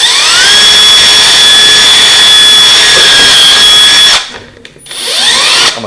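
A power drill whines steadily as it bores bolt holes in a fry grow-out container, the loud motor pitch holding for about four seconds before cutting out and briefly spinning back up.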